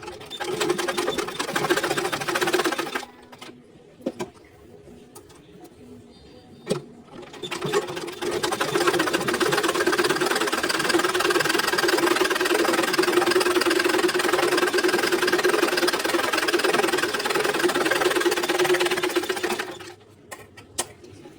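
A sewing machine stitching a blouse runs in two long, steady bursts of close mechanical whirring and rattling, separated by a short quiet pause, with no voices.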